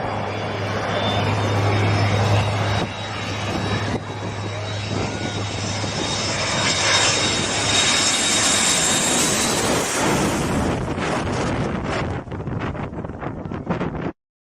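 An airplane coming in to land, a loud jet engine roar with wind rush that holds steady and then fades away, with no talk.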